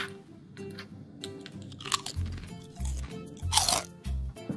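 Someone eats a lettuce and tomato salad, with several loud, close bites and crunchy chews in quick bursts over soft background music.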